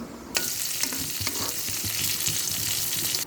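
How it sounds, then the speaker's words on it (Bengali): Vegetables and cumin seeds frying in hot oil in a village kitchen, a steady loud sizzle with occasional stirring scrapes, no voices over it. "তেলের মধ্যে আবার জিরা দিয়ে দেবো"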